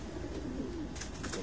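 A one-eyed antique pigeon with a red eye, on a rooftop loft, gives low murmuring coos close by over a steady background hum.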